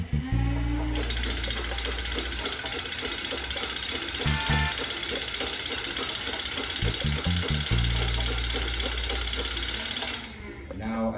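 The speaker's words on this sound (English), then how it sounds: "let's get to the firing test and see how the Adventure Force V-Twin performs" Adventure Force V-Twin toy dart blaster, a small motorized mini gun, firing foam darts in a sustained, fast ratcheting whir that runs for about ten seconds with a few brief stutters, then spins down.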